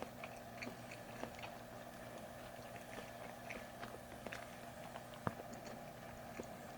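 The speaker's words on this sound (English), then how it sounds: "if you're bothered by the chewing sounds" Close, quiet chewing and biting of McDonald's food, with soft irregular crunches and wet mouth clicks over a low steady background hum.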